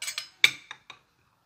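A spoon clinks against a container while sugar and black seed oil are mixed into a cough remedy: a handful of light, bright taps spread over about a second, then quiet.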